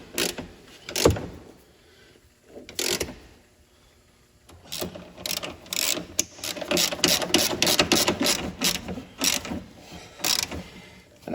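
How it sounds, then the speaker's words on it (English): A hand ratchet tightens bolts on Westin 3-inch side steps fitted to a 2020 Ram 2500: a couple of short bursts of clicking, a pause, then a long run of quick, close ratcheting clicks. "now we'll get our ratchet and we'll tighten these bolts down"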